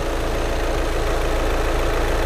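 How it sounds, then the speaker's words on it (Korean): A Volkswagen CC 2.0 TDI BlueMotion diesel idles with its engine bay open: an even, continuous low rumble heard up close with no voices. "엔진 소리 일정합니다."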